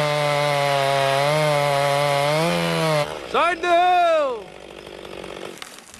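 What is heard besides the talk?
chainsaw felling a tree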